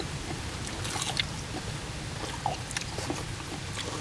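Close crunching and chewing of crisp lettuce eaten with spicy shell squid salad, with irregular soft bites and wet squishes over a low background hum, and no talking.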